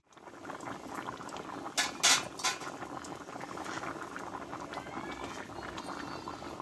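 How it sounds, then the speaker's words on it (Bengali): A vegetarian potato and pointed gourd curry bubbles in a pot, a steady close simmering patter with a couple of brief louder sputters, no voices. "দেখো বন্ধুরা, তরকারিটা কিন্তু ফুটতে লেগেছে।"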